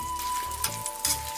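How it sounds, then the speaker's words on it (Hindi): Tadka of cumin, chilies, bay leaf and asafoetida in hot oil gives a soft, steady sizzle with a couple of brief crackling surges, heard fairly faint and alone. "तड़का डाल देते हैं।"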